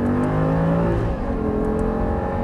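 An Audi R8 on the Lyon racetrack revs hard and steadily, its engine note dipping briefly as a gear changes, then climbing again. The sound is loud, close and continuous, with no talking.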